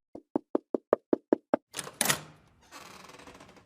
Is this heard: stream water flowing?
no